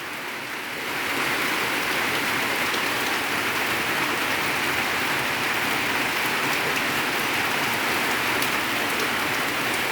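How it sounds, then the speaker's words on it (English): Steady rain falls on a rainy day, a dense, even hiss of drops that swells in within the first second and then holds loud and unbroken throughout. "A rhythmic sound of rain."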